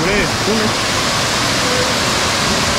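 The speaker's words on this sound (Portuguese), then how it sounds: "O que você achou da cachoeira aí?" Cachoeira do Jajá, a waterfall in Morretes, Paraná, roars as a loud, steady wash of rushing water, with brief voices talking over it close by.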